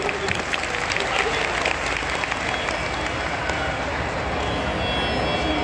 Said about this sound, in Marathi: आपण सर्वांनी प्रथमतः टाळ्या वाजवून त्याचं अभिनंदन करावं